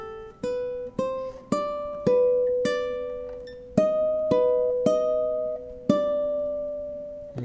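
Plucked ukulele notes pick out bars three and four of In the Hall of the Mountain King, about a dozen clear, evenly spaced notes that ring and decay, played alone at a gentle volume.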